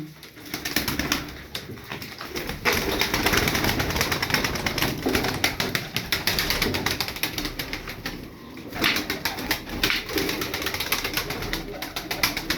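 Tumbler pigeons cooing in a soft, continuous murmur over a busy, broadband background of flapping and rustling, fairly close and steady throughout.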